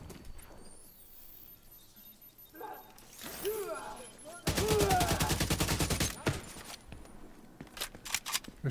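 Gunfire in The Division 2, an AK-47 among the weapons, as a dense automatic burst of shots in the middle, with quieter scattered shots and game effects around it and someone talking at points.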